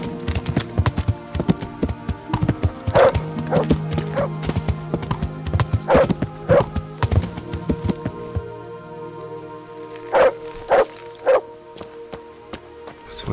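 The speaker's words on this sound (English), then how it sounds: "What's with the dog?" A dog barks in the video game Kingdom Come: Deliverance, giving short, sharp barks in quick clusters of two or three over busy background game sounds, with a steady hum underneath.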